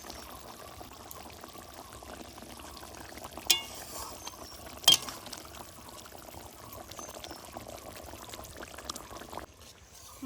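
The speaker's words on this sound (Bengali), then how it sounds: "এখন টকবক করে ফুটছে," Mustard-based bhola fish curry gravy simmers and bubbles in a pan, a soft steady seething with a couple of sharp clinks partway through, quiet and without talk.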